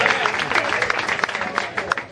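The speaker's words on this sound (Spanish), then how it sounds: "¡Fuerte el aplauso para Papirola!" An audience at a cultural centre show applauds loudly and close, dense clapping mixed with crowd noise and a few voices, sustained throughout.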